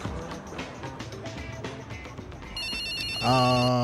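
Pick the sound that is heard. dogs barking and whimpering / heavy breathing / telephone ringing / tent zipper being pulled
telephone ringing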